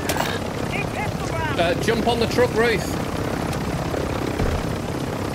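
A helicopter in a video game drones steadily in the background, its rotor and engine hum constant while people talk excitedly over it.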